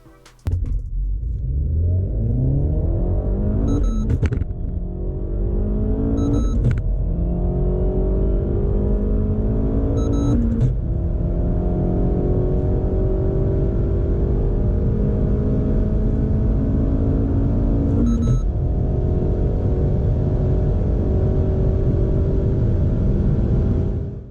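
A car engine revs hard from 100 to 200 and climbs in pitch through several gears, with brief dips at each shift, loud and sustained throughout.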